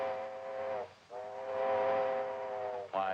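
A steam train, number 7, pulls into a station at noon, sounding its whistle in two long, loud tonal blasts separated by a short gap, with a third blast starting at the end.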